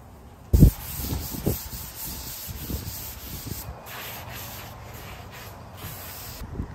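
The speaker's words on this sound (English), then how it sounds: "some sanding in between with 320 grit" Steady abrasive rubbing of 320 grit sandpaper between primer coats on an antique buffet, a continuous scratchy hiss with rhythmic strokes after a sharp start, fairly close.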